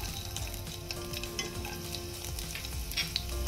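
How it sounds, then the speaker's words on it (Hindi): Chopped garlic fries in hot oil in a kadhai, giving a steady close-up sizzle with small crackling pops throughout and no voices. "एम तेल गरम हो आसमें कटा रसुण को सेद"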